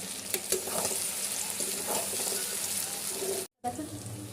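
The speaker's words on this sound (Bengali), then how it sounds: "চিকেন পেঁয়াজ সব একদম ভাজা ভাজা হয়ে গেছে" Chicken pieces and onions frying in a pan, a continuous sizzle with stirring clatter and a brief cut to silence near the end, faint background noise.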